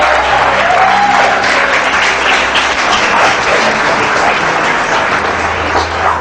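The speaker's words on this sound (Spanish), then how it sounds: "Dar un fuerte aplauso al Señor." Congregation in a Spanish-language church service applauding loudly and steadily for several seconds, a dense wash of many hands clapping with crowd noise and no one speaking over it.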